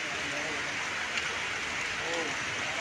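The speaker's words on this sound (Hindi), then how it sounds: "अब काफ़ी तेज़ बारिश सोलन में इस वक्त हो रही है और झमाझम बारिश है" Heavy rain pours down in Solan as a dense, constant rushing roar, with a voice faintly present under the downpour.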